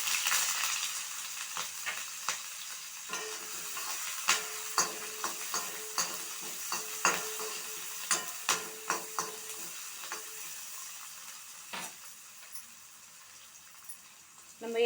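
Chopped onion and green chili fry, crackling steadily in a pan while a utensil scrapes and stirs in a series of sharp, rhythmic knocks.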